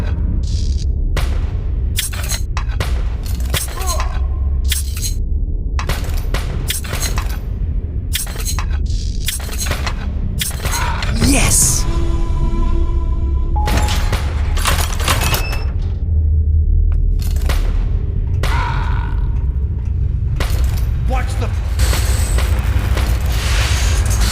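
Battle cannons fire in a Jules Verne video game, with many loud booms going off in an irregular volley over a constant low rumble, some close and some farther off.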